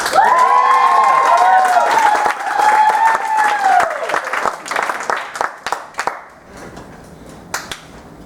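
A comedy night crowd applauds and cheers for the musical guest while a sustained tone fades out over the first seconds, then the clapping thins into scattered, separate claps that dwindle away.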